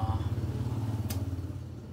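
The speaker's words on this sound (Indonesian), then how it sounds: "sorry, ada suara motor karena" A motorcycle rumbles past on a residential street outside a house, heard from indoors as a steady, fairly faint low engine drone that gradually fades.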